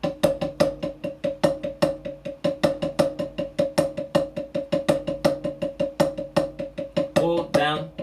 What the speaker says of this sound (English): you want to play those accents, those upbeat accents, as a full stroke, go into a downstroke